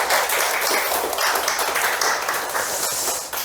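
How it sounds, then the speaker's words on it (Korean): Church congregation applauding during a Catholic Ascension Day service, a loud, continuous spread of clapping that holds steady from start to finish. "우리 박수로 좀 축하해 주시면"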